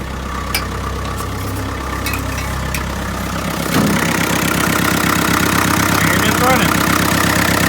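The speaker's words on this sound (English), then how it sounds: "For a diesel, it's amazing how much it's so smooth the way it runs." A Land Rover Series 2A 2.25-litre diesel engine idles after a cold start with a steady, low rhythmic chugging that grows slightly louder partway through and then runs on evenly.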